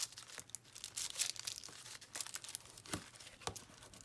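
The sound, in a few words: bone folder burnishing paper cover of a scrap paper journal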